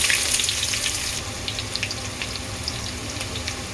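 Sliced onion rings sizzle steadily in hot sunflower oil in a pan while chicken biryani is cooked for catering, giving a continuous bright frying hiss that is close and even, with faint crackles and no talking.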